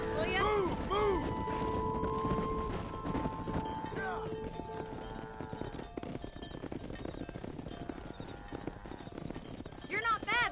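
Horse hooves clip-clop through a cattle-herding ride in the Western game Red Dead Redemption, steady and close, with cattle calls, a whinny and voices talking over the hoofbeats.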